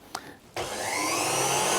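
An electric mixer whirs up and keeps running steadily as butter is beaten with pastry cream into a smooth mousseline for a strawberry-raspberry dacquoise, loud and close after a brief click at the start.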